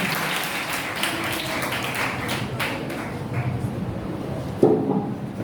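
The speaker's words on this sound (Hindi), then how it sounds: "जोरदार तालियां बजाएं संस्कृति के लिए।" An audience claps at a school Hindi Day event with poetry recitation and a debate contest, a soft, steady patter of applause from a crowd, fairly distant, with a sharper thump near the end.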